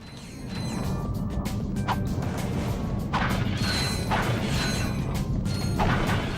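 Wrench smashing objects in the video game Ratchet & Clank: Going Commando, with repeated sharp crashes and clattering breaks over a continuous dense game background.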